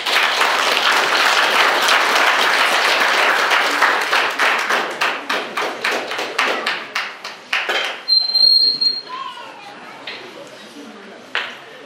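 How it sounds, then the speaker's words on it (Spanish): Applause for newlyweds at a church wedding, a loud burst of many hands that thins into scattered, uneven claps and then dies away, with faint voices near the end. "Damos un aplauso por los nuevos esposos."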